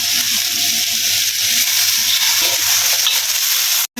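Aromatics, celery and a splash of rice wine sizzle steadily in a hot pan over high heat, a loud continuous fry with stirring scrapes, cut by a brief dropout near the end.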